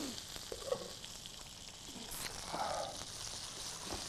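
Chicken sizzling in a frying pan with vegetables and Chinese sauce, a continuous near hiss of frying broken by a few faint clinks and stirring sounds.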